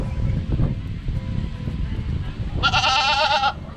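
A goat bleats loudly and close by at a small-town harvest festival, one sustained wavering call near the end after outdoor crowd chatter and rustling.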